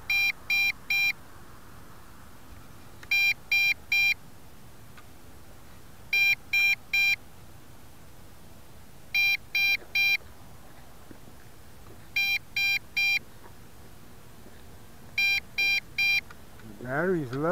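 Bursts of several rapid high-pitched electronic beeps from a GPS quadcopter's telemetry transmitter, repeating roughly every three seconds, fairly clear over a quiet background hum.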